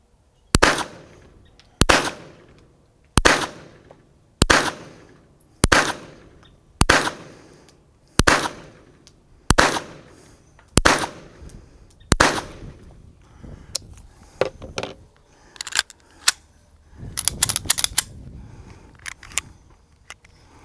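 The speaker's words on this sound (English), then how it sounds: "That was 10 rounds unsuppressed." Ten unsuppressed shots from a 9mm Springfield Armory XDM Elite OSP pistol, loud sharp cracks spaced about a second apart, followed by fainter clicks and rattling handling noise at the end.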